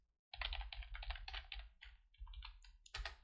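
Someone types on a computer keyboard while writing Python code, with quick bursts of close, crisp key clicks broken by short pauses, heard alone without talk.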